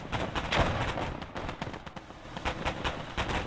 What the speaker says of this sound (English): Firing their smelly, rotting cannons to the heart's content.